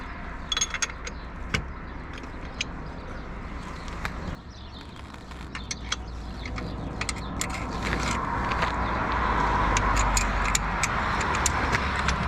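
A 22 mm wrench from the tool kit loosens the axle bolt on a Ural sidecar motorcycle, giving scattered metallic clicks, ratcheting and clinks against a steady low outdoor rumble that swells toward the end.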